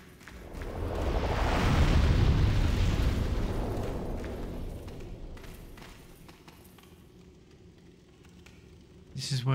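A large explosion in the game Demon's Souls swells into a loud, roaring rumble that peaks and slowly fades over several seconds, followed by softer in-game sounds.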